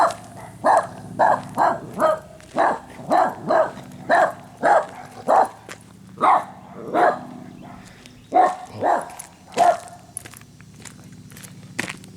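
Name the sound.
puppy barking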